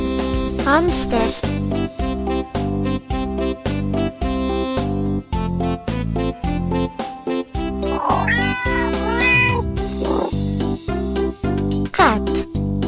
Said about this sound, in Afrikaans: Kat.